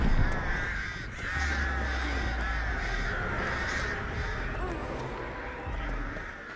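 Crows caw repeatedly in the Dead by Daylight game, harsh calls recurring over a steady game soundscape while people talk over the top.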